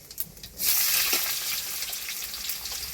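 Whole spices, black cumin, cumin and panch phoron, with chopped onion hit hot oil in a sudden loud burst of frying hiss that settles into a steady close sizzle.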